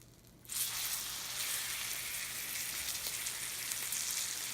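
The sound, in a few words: steak frying in pan with butter and oil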